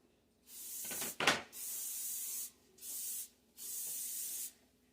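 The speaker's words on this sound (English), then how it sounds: "I have greased my spatula front and back and a little bit down the handle" Cooking spray hisses onto a spatula in four bursts, the first broken by a brief rubbing rattle, then three steady sprays with short pauses between, close and clear, used in preparing marshmallow Halloween desserts.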